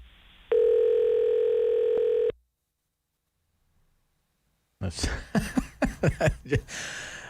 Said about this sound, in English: Don't you love that when the phone just starts randomly ringing like that in your ear?